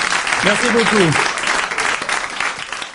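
A live radio-show audience applauds a guest named Isabelle, a dense clapping wash that runs throughout while a voice talks over the first part.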